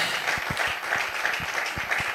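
Applause and cheering acclamation from a congregation at a worship broadcast, a steady dense wash of clapping with scattered heavier hand thumps throughout.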